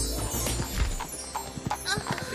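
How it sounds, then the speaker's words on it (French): Magic flying pony in a cartoon, its hooves making a brisk clip-clop over a busy background of music and effects, with voices speaking in parts. "tu repars avec un poney magique volant"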